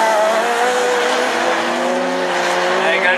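Rallycross race cars in a semi-final at Dreux, with a Peugeot 207 running close behind, produce a loud, continuous engine roar with a squealing tyre edge throughout.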